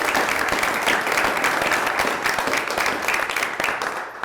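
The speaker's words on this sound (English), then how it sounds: "If you will join me in a round of applause." A room full of people at a governor's energy task force meeting breaks into steady, dense applause that holds for several seconds before beginning to taper.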